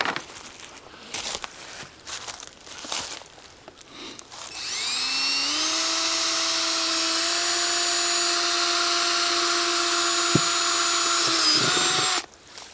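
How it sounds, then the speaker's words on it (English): A power drill bores a tap hole into a maple tree outdoors, with a steady, loud, close whine lasting about seven seconds after some footsteps and handling, then stopping abruptly. "we put a piece of tape on the drill bit so that we can measure the depth of our drilling"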